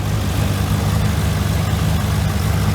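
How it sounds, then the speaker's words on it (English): A vehicle engine idles steadily after a repair with the cap back on, a loud, even low rumble with constant vibration and no break throughout. "let it idle for a little bit longer"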